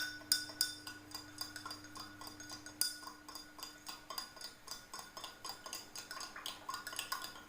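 A spoon stirs water and oil in a glass, giving a quick run of light clinks and taps against the glass, close and fairly quiet with no talking.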